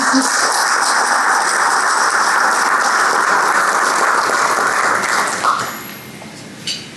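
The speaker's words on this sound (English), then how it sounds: "I want to give you all a round of applause." Sustained audience applause at a business awards ceremony, loud and dense, that fades out near the end, followed by a brief softer clatter.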